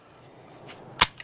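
An AK rifle firing Polish Grom 7.62x39mm ammunition, a single sharp, loud crack near the end after a quiet lead-in outdoors.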